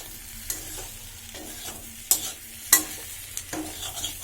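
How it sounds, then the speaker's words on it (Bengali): Poultry chicken being stirred and fried in a pan for a Bengali kosa curry with potatoes, a soft continuous sizzle broken by several sharp scraping stirs of the spoon, close up and without speech. "মাংস কষিয়ে নিয়েছি প্রায়, আরও 5 মিনিট পরে ঝোল দিয়ে দেব"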